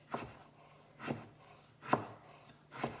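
A knife chops down through a mango on a cutting board, cutting it into slivers: four distinct, evenly spaced thuds about a second apart, close and fairly quiet, with no voices.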